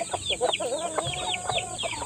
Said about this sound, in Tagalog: Magpapakain po tayo sa ating mga alagang manok